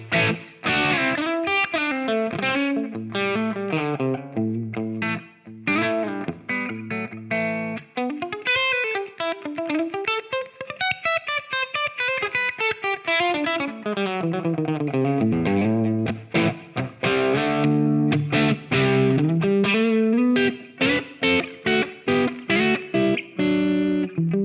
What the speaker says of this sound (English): this is just basically kind of an edge of breakup push tone